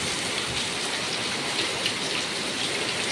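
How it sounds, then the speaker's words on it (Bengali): Heavy rain pours down in a loud, dense and unbroken roar close by, with no voices. "এখন তুমুল বৃষ্টি হচ্ছে, তুমুল অসম্ভব বৃষ্টি"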